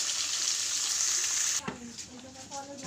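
Fish frying in hot oil, first a bright steady sizzle, then a sudden drop to a quieter crackle with a few clatters as the pan is handled, close by.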